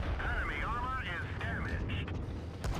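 Heavy tank cannon fire in the mobile game World of Tanks Blitz, a loud booming shot with rumbling low-end under game engine noise and effects, lasting across the clip.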